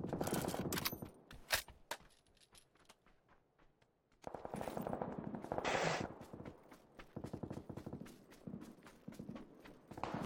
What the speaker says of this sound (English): Yeah, gunshot from this direction.